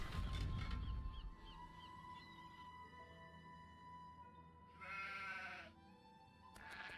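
A sheep bleats in a Nancy Drew game set around a bog at Castle Malloy, a few short bleats over soft ambient background sounds.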